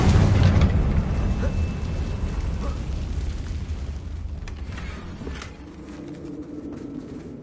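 A Confringo blasting curse goes off in Hogwarts Legacy, a loud rumbling burst that opens the clip and decays into a long, roaring low-frequency wash with crackling debris and game ambience.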